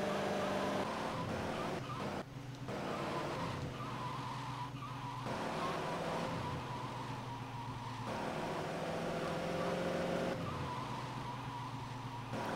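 Limousine driven through the streets in GTA Vice City Stories, with a steady engine drone, repeated tire squeals and skids as it corners, and a player talking over the top throughout.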